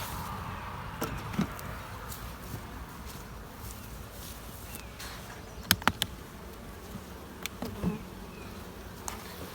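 Honeybees buzz softly and steadily around five-frame nuc hives. The drone carries a few scattered clicks and knocks, with no voices.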